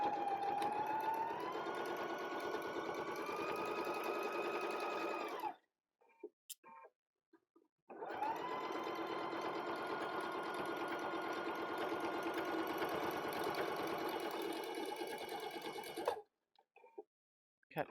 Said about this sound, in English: and off I sew again.